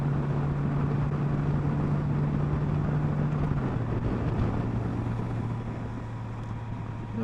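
A 2021 Honda Gold Wing DCT motorcycle cruises in sixth gear, a steady low engine hum under heavy wind rush, its pitch stepping down slightly partway through.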